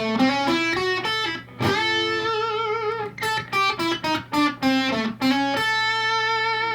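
A bluesy electric guitar lick with bent and sliding notes, a few sustained tones, then a quick run of short plucked notes, played alone.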